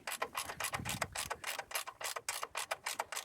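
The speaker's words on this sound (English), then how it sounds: "Refit the sump bolt as shown" A steel sump bolt is ratcheted into the soft aluminium sump thread of a Mitsubishi Pajero Sport. Quick, evenly spaced clicks of the ratchet repeat steadily and close up, with no talking.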